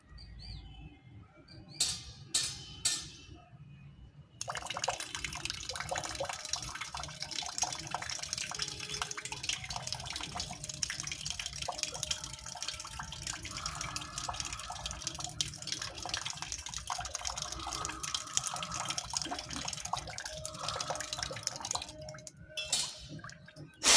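Water from a jal neti nasal rinse runs in a steady continuous splashing stream for about twenty seconds, with birds chirping in the background before and after the flow.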